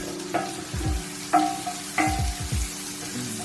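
Spaghetti and mussels being stirred in a pan, with a few scraping, sliding strokes over a steady low sizzle of frying, close and fairly quiet.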